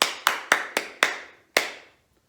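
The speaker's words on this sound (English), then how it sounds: "let's try that one more time, but without the words this time, just clapping" Hands clap a short rhythm, six crisp, close claps with a brief pause before the last, each decaying quickly into a quiet room with no voices.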